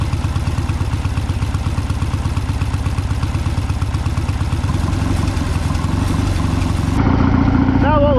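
Triumph Bonneville T140V parallel-twin motorcycle idling on twin Amal 930 Concentric Mk1 carburettors during carb balancing, with a loud, close, steady throbbing idle that shifts slightly near the end.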